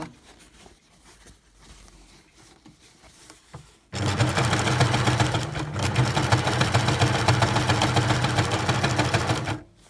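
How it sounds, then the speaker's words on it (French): A Baby Lock sewing machine with a guided compensating foot runs steadily while stitching a seam, starting abruptly after a few seconds of quiet handling noises and continuing loud and even to the end. "Donc si je veux, je termine la couture entièrement."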